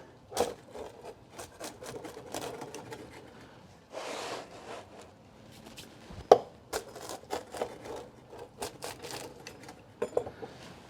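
A knife slicing through a pizza baked in a small pizza oven, quiet crisp crackling crunches with scattered sharper clicks and taps across several strokes, close but faint, no talking.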